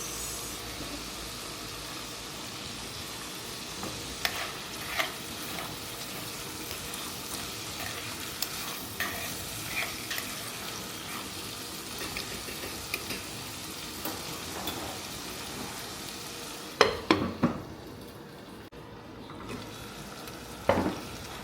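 Tomatoes sautéing with shrimp paste in a pan for mung bean stew, with a continuous close sizzle and hiss broken by irregular clicks and scrapes of stirring, growing louder and busier near the end.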